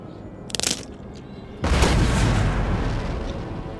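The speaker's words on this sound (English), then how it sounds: "Alright, cannons, do your worst. Just let her rip." Cannon artillery fire in Empire: Total War, a cluster of sharp distant reports followed by a heavier booming volley that rolls on into a lingering rumble, with no talking.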